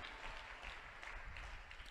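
A church congregation claps during a sermon, giving a dense, continuous patter of many hands that sounds faint and slightly distant.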